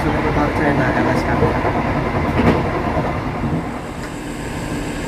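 The Moti Selatan passenger train rumbling along near Kutoarjo station, a dense, steady roar of wheels and carriage noise with faint rhythmic clacking, close and loud throughout.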